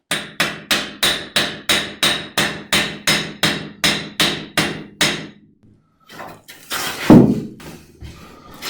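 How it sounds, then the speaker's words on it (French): A hammer drives a metal earth grounding rod into the ground with about seventeen sharp, evenly spaced strikes, followed by scraping and handling noises. "je vais taper au marteau tout d'abord"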